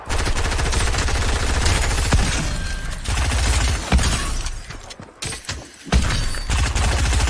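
Rapid, dense gunfire and shattering bursts in a Fortnite match, loud and nearly continuous with brief gaps, sharp cracks stacking into volleys like shotgun and automatic fire.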